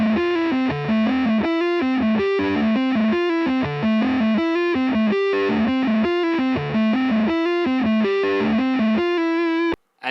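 An electric guitar played through a distortion pedal runs a fast, repeating riff of thick, saturated notes with creamy sustain, loud and alone without any talking, ending in a sudden stop.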